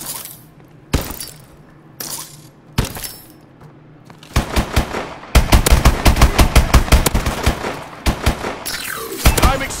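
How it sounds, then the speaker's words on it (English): Covering gunfire in Call of Duty Advanced Warfare starts as a few isolated sharp shots, then swells into a long run of rapid automatic bursts with crashing, breaking impacts before easing into scattered shots. "Give me covering fire."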